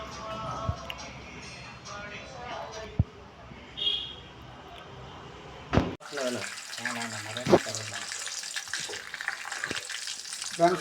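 Curry leaves and mustard seeds hit hot oil: a quiet kitchen with faint clinks gives way midway to a sudden loud, spitting sizzle with crackles and pops, and a voice is briefly heard.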